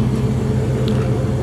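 A 1937 Ford Tudor slant-back resto-rod idles steadily nearby, a low, even engine rumble with no revving or talk.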